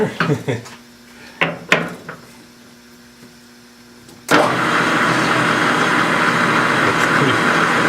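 A metal lathe in a machine shop is switched on and put in gear. A few clunks and clicks of the controls come first, then the machine starts abruptly into a steady, loud running hum that continues to the end.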